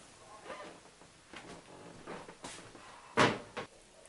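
An oven door shuts with a solid thump after faint rustling and handling, as parmesan-crusted northern pike fillets go in to bake; a lighter knock follows just after.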